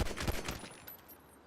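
A rapid burst of video-game gunfire, several sharp shots in quick succession at the start that then fade into a decaying echo, with no talking.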